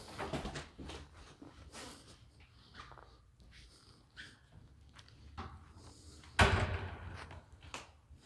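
A church door is opened and walked through, with soft handling clatter and footsteps leading to a loud close thump and rattle near the end.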